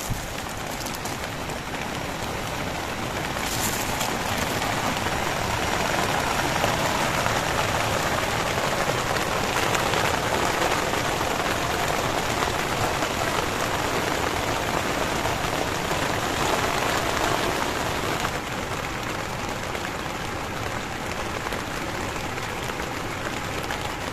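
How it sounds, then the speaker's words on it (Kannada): Steady light rain patters continuously in dense forest beside a waterfall at a campsite, a soft even hiss of drops on a surface with no voices. "ಮಳೆನೂ ಜಿಟಿ ಜಿಟಿ ಜಿಟಿ ಬರ್ತಾ ಇದೆ ನೀವು ಗಮನಿಸ್ಬೋದು"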